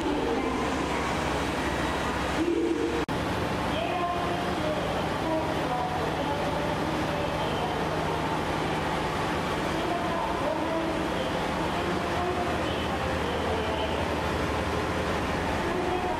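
Steady rumbling of the Yufuin no Mori limited express tourist train heard from inside, a continuous broadband roar with a brief clunk early on.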